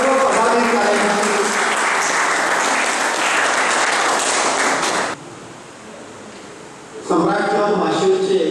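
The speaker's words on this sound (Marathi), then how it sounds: "त्यांनी टाळ्या वाजवून सम्राट क्लब बिचोलीच्या सर्व पदाधिकाऱ्यांची" An audience gives sustained, dense applause at a Samrat Club gathering celebrating theatre day. The clapping dies down to quiet room noise before a voice starts speaking over a microphone.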